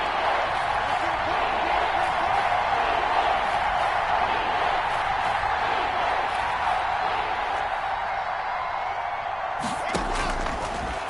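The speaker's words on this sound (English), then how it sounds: "the crowd getting into it as we come up on a big 3rd down" Football stadium crowd roaring steadily in a broad, distant wash before a big third down, with a sportscaster talking over it and a sharp thump near the end.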